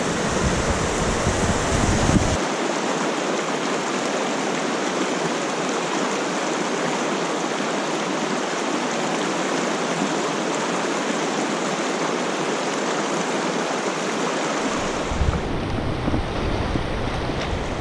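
River water flows in The Narrows at Zion as hikers wade downstream, a loud, continuous broadband rush. Deep low-end rumble at the start and end suggests wind buffeting the microphone. No one speaks.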